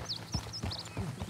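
Horse hooves clip-clop in Red Dead Redemption 2, several uneven thuds over about a second at close range, mixed with chirping birds in the background and no talk.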